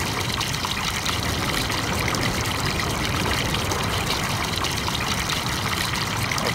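Water flowing through an opened sluice into a rice field in the video game Farming Simulator 2019, a steady rushing, trickling stream that continues evenly throughout.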